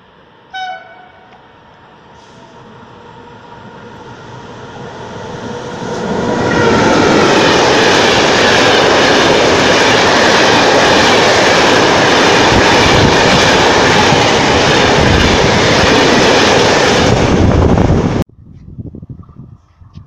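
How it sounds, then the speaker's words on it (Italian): Train passing through a station on the Florence-Bologna line at speed: a horn blast first, then a rising roar that holds loud and steady for about twelve seconds before cutting off abruptly. "Attenzione, treno in transito al binario 3, allontanarsi dalla linea gialla."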